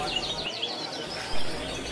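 Many songbirds at a bird market in Ponorogo chirp and tweet at once, quick high calls overlapping in a busy, moderately loud chorus, with some faint background noise.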